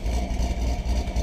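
A 2009 Corvette V8 with an aftermarket cam and the factory performance exhaust rumbles at idle, a deep, loping, slightly uneven throb close by.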